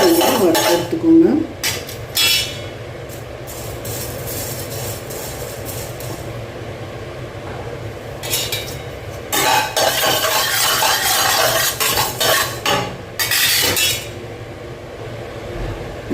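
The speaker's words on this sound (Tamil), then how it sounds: "ஒரு 1/4 கப்பு தனியா வறுத்துட்ருக்கேன்" Dry coriander seeds are roasted in a pan and stirred, giving bursts of scraping and rattling from the spoon against the metal between quieter stretches.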